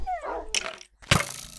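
Minecraft dogs give a whimpering whine and a couple of short yips, with two sharp bursts separated by a brief silence, close and fairly loud with no talking.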